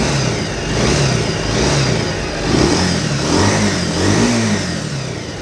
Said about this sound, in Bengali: সো আমি প্রথমেই ইঞ্জিনের সাউন্ডটা দিয়ে শুরু করব।